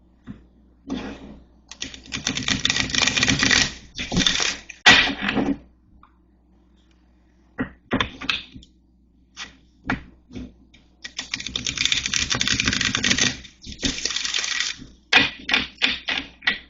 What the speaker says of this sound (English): All right, I'm going to shuffle these.